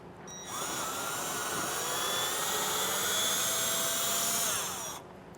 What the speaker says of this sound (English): I'm going to be using a 1/8 inch bit today though, and we're just going to make some pilot holes